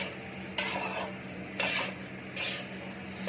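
Metal spatula scraping and clinking against a flat griddle while mixing tawa pulao, three separate strokes at a steady interval over a low background hum, close and moderately loud.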